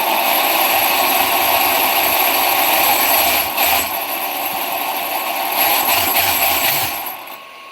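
RC basher car electric motor revving under throttle, giving a loud continuous high-pitched whine with brief dips before it fades out at the end.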